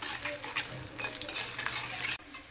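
Panch phoron spices fry in oil and ghee for a thin khichuri tempering, a quiet close sizzle with light stirring scrapes and ticks that cut off abruptly near the end.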